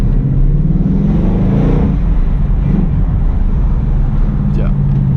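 Deep, loud low rumble of a 2018 Ford Mustang GT V8 with manual gearbox and stock exhaust, heard from inside the car as it drives in traffic, a steady throbbing drone with a slight surge early on and some voice mixed in.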